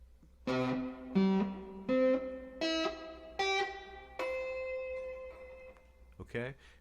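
An electric slide guitar plays a descending line of separate sustained notes down the primary D line in D position, each note sliding into the next, ending with a final long note and a short extra phrase.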